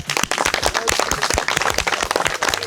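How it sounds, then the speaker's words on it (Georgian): An audience at a stand-up comedy show applauds, a dense, close burst of many hands clapping that fills the whole moment. "დაუკარით საკუთარ თავს ტაში"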